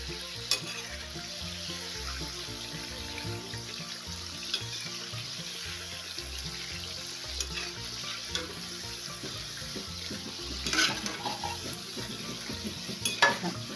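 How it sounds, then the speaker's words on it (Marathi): Wheat-flour kapanya sweets fry in hot oil over medium heat, giving a continuous soft sizzle and bubbling with occasional stirring clinks and splashes, close and fairly quiet. "मध्यम आचेवर छान मी पहिला घाना तळून घेतला."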